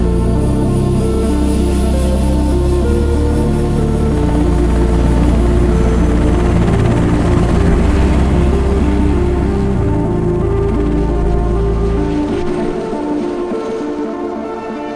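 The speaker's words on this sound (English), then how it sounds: "We put it on a helicopter with a line, and then we take off and fly to the area" An Air Zermatt rescue helicopter flies close by with a loud, steady rotor thrum and engine whine that holds strong for most of the stretch before easing off toward the end.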